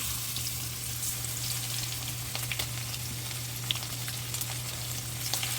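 Lamb meat searing in a hot pan over medium-high heat gives a steady, dense sizzle with crackling pops throughout, close and continuous with no talking.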